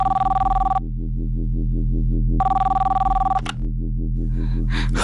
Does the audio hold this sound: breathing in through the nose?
no